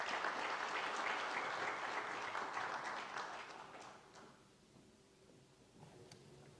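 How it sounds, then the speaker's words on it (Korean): Applause at an alumni worship service welcoming a seminary president to the podium, steady clapping that fades out after about four seconds, leaving a quiet room with faint movement. "박수로 환영해 주시면 감사하겠습니다."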